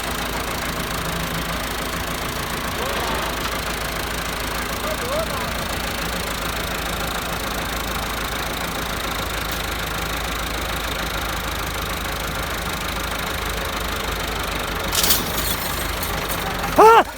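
A Massey Ferguson MF 375 tractor engine runs at a steady idle, a low continuous rumble with slight knocking, while voices talk over it and a brief clatter comes near the end.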